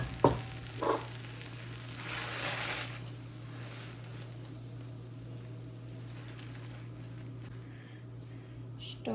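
A spoon stirs mashed potato stuffing in a pan, giving soft, quiet scraping and shuffling with a faint sizzle under a steady background hum.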